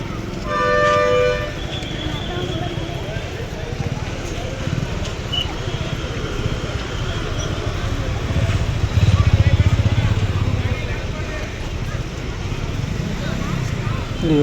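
Bus engines rumble and idle at Hunagunda bus stand, with horn toots early on and a louder engine swell midway as a vehicle pulls out, under continuous nearby talk.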